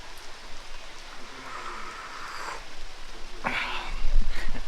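Steady rain falls on a rainy day in Islampur, Malda, India, a continuous hiss of drops on surfaces that swells toward the end, with no talking.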